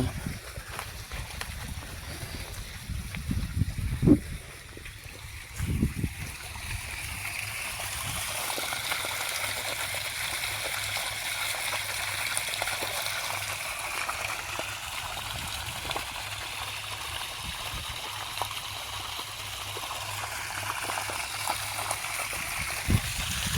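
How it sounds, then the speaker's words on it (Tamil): Water rushes steadily along a farm irrigation channel in Erode, Tamil Nadu, in a continuous gurgling flow, with a couple of brief knocks early on. "தண்ணியெலாம் நல்லா ஓடுது"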